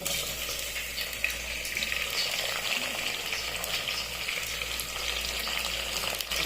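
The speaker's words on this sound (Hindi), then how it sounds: "अब हम इसमें प्याज में ऐड करेंगे अपने टमाटर, जो हमने काट के रखे हुए हैं।" Chopped tomatoes go into onions frying in a pan for daal mash, giving a steady, fairly loud sizzle and crackle with some stirring, continuous throughout and without talk.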